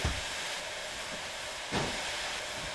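A train rolls along in the Derail Valley railway simulator, giving a steady rumbling hiss with a low thump at the start and another brief surge partway through.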